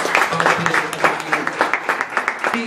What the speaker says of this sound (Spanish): doctora Yasmín Gutiérrez, un aplauso para ella